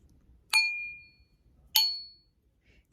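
A handheld bell is struck twice, each strike giving a bright, close metallic ding that rings on and fades over about a second before the next hit.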